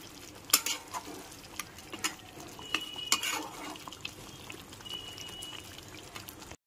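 Chicken korma being stirred in a pan after kewra water is added, with intermittent scraping and clinks of a spoon against the pan and a faint background sizzle.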